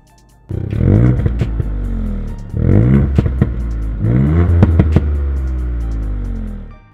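Car engine revving hard three times in succession, with loud roaring bursts and crackling pops from flames at the exhaust, close and dominant, settling to idle between revs.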